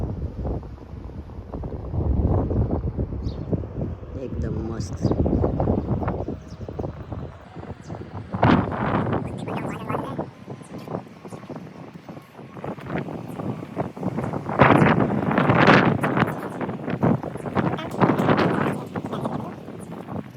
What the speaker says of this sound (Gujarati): એકદમ ઠંડો પવન ને જોરદાર છે